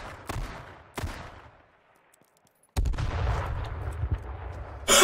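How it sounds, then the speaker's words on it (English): Sharp explosive bangs from fireworks in the H1Z1 video game, a couple of loud close blasts followed by silence, then a denser rumbling burst with crackling, ending in another loud burst. "Fireworks. Northwest."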